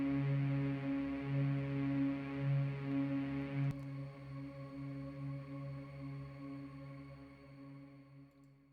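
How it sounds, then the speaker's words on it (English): A quiet, sustained low drone note from a modular synth with steady tonal layers and a shimmering, airy Valhalla reverb tail; it thins out and softens partway through. "it's just a low riding drone note. Nice and quiet in the background."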